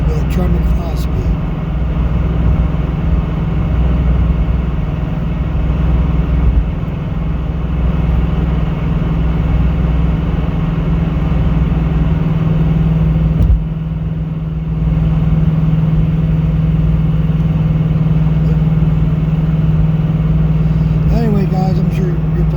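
A car with a 2-valve 4.6 engine and Tremec 5-speed cruises along, giving a steady, even engine drone and road hum throughout, with a brief dip midway.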